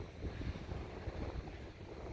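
Wind blows steadily over a bay in Ise, Japan, with small waves and swell nearby, a soft continuous rushing roar close to the microphone with no voices.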